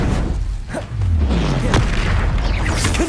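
A Confringo blasting spell going off in Hogwarts Legacy combat: loud, deep booming bursts with thuds and swooshing tails layered over one another for about three seconds, with no talking.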